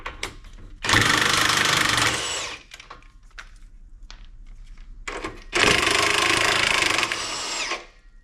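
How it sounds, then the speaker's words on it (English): An impact gun works on the shock absorber bolts of a Prevost XLII bus, with two loud, close bursts of hammering rattle each lasting about one to two seconds, and quieter clanks of tools in between. "You don't necessarily need to have a good impact gun, but it sure makes things easier."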